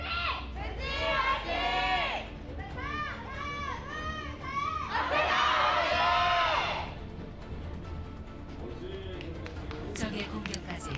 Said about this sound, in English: still staying positive as they cheer for their squad to try to bounce back and tie up this series